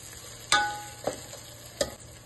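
Tomato masala for egg biryani fries and is stirred in a pan, with a low steady sizzle and three distinct scraping clinks from the spoon spaced apart.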